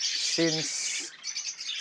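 A flock of parakeets chirps in a constant, dense high twittering that fills the whole stretch, briefly joined by a single spoken word.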